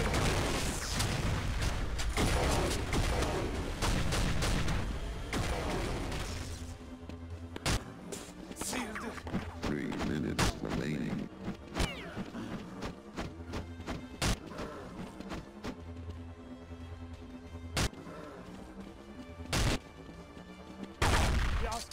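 Combat in Counter-Strike 1.6 on a Nemesis mod server: a grenade is thrown and gunfire follows, with a loud dense burst early and then sharp shots and thuds breaking through a steady game din.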